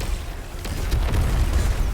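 A tractor cannon fires in Destiny 2 with a heavy booming blast, a deep rumbling impact that swells and lingers through the short moment, loud and close.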